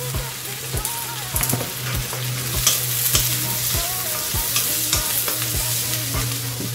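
Fried pork chops stir-frying with garlic granules and garlic herbs in a hot pan, loud steady sizzle with regular scraping spatula strokes close up, a low steady hum beneath and no talking.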